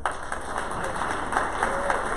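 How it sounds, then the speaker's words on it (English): A group in a meeting room breaks into applause, a continuous patter of many hands clapping at close range for a couple of seconds. "Give them a round of applause, guys."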